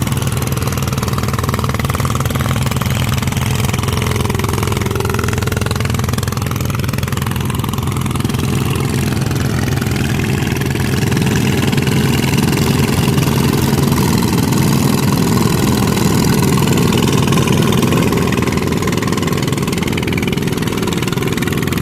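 Loud, continuous rumble of a farm machine engine working a rice paddy in a village, running steadily right beside a wall, with a harsh, reverberant clatter bouncing off the wall.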